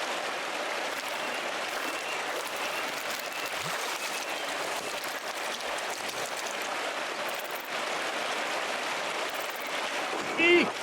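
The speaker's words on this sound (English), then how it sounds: "Waterfall's too loud, I can't hear much." A waterfall roars in the video game Pentiment, a loud, steady broadband rush that fills the whole scene without pause, with a faint brief tone near the end.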